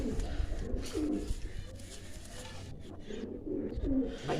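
Soft, throaty coos of a female pigeon repeat in short bursts, close by, with faint background rustling and a hint of muffled voices.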